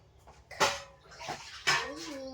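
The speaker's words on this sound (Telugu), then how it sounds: "ఇప్పుడు బౌల్లో వాటర్ పోసేసుకుందాం." Water is poured into a bowl in a home kitchen while cooking, with two short splashing bursts and a faint clink, and a voice murmuring briefly in the background.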